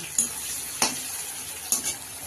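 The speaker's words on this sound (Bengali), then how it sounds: "তো পেঁয়াজটা ভাজা ভাজা হবে" Onions fry in a pan for mutton curry with a steady close sizzle, broken by three sharp scrapes and clinks of a spatula stirring against the pan.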